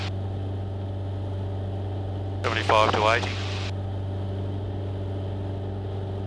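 Air-cooled piston engine of a light aircraft climbing on a hot day, a steady close droning hum throughout with a short burst of radio-like chatter in the middle.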